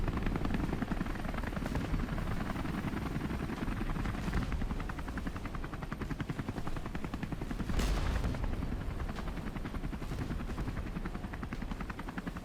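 A military helicopter's rotor thumps in a fast, steady chop, loud and close, with the engine whine swelling and easing as it comes down to land.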